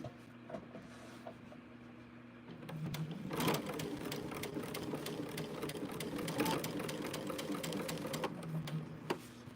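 A sewing machine stitches quilt fabric in short runs, its rapid even clatter starting after a quiet stretch and continuing with brief pauses, close and moderately loud with faint talk.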